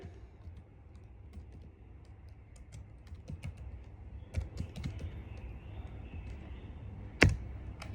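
Typing on a computer keyboard gives a run of quick, close key clicks at an uneven pace, with a few louder taps standing out over quiet room noise.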